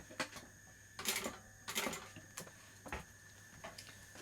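A sewing machine stitching a box seam on a bulky backpack, quiet uneven bursts of rapid mechanical ticking separated by short pauses.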